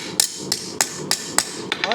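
Hand hammer striking a hidden tang hunter knife blade while forging the bevels, six sharp metallic blows at an uneven, unhurried rhythm, close and loud with ringing tops.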